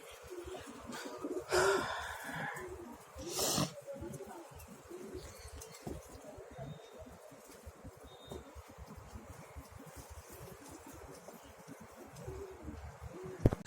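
Pigeons cooing softly in a loft, low repeated coos running throughout with a couple of louder bursts of wing flapping or movement early on; a voice speaks intermittently over them.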